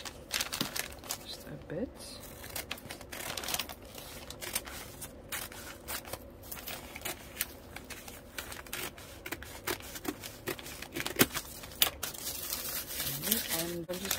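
Paper for a junk journal cover is cut and handled with faint scissor snips, crinkles and rustles coming close but quiet. A person talks softly over them.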